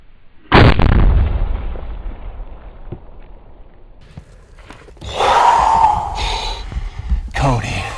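A loud, close rifle shot booms and rumbles away during a pronghorn hunt in Wyoming, followed by excited voices and heavy breathing, then another sharp crack near the end.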